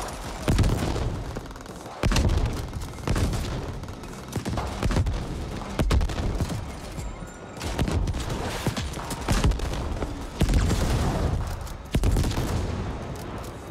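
Turrets firing in the game The Ascent, repeated loud bursts of automatic gunfire and heavy impacts in uneven waves, close and busy, with no voices.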